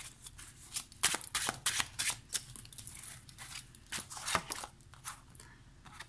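Slippery tarot cards are shuffled by hand up close, with a run of crisp riffling flutters and soft slaps that rise and fall in bursts.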